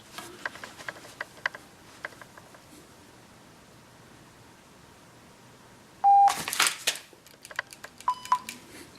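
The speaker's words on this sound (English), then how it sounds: "So, set the timer." A shot timer sounds its sharp electronic start beep during a dry-fire pistol drill, the loud tone cutting in after a stretch of quiet clicks and followed by a scatter of brief ticks and clicks.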